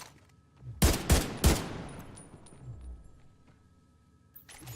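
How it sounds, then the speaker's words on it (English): Gunfire laying down suppressing fire in The Division 2, three sharp, loud shots close together followed by a long decaying echo, then a faint further crack near the end. "Suppressing fire!"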